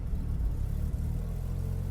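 A rotary-engined car idles with a low, steady, close rumble, brief and unchanging.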